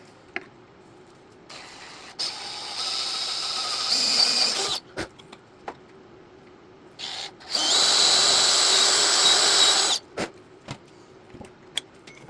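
A power drill drives into wood while fitting a caster, running in two sustained bursts with short starts and stops and a few clicks and handling knocks in between.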